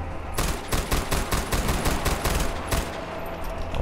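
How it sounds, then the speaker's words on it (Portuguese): Rapid gunfire bursts from a sniper in the video game Far Cry 4, a dense string of sharp, loud shots crackling across nearly four seconds with a steady rhythm and no talk over it. "Tem um sniper lá fora me atirando"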